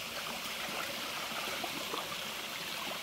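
A mountain stream in summer at Đông Ngàn, Tân Phúc flows steadily, with a continuous close rush and trickle of water over rocks and no voices.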